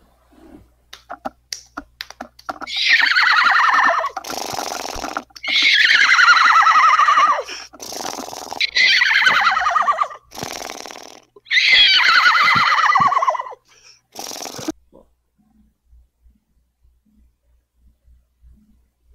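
A person's voice imitates a horse's neigh, giving four loud, shrill whinnies one after another. Sharp clicks and snaps come before them, and near silence follows.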